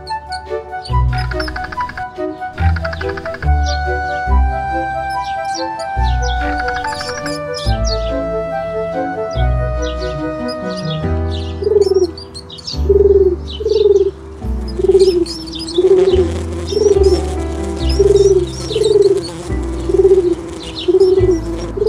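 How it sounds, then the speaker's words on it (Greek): Birds nesting in the branches of a tree, with a pigeon-like cooing repeated in a steady rhythm over lighter chirps and twitters, close and clear with no talking. "Τα πουλιά φωλιάζαν στα κλαδιά του"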